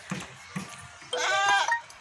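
Goats kept for sale bleat at a livestock seller's pen: a couple of short soft calls, then one longer wavering bleat, close and clear with no talking.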